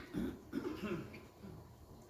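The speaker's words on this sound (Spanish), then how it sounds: "Y empezamos a toser" A few quiet coughs, two or three muffled bursts close together, faint and low with a throat-clearing quality.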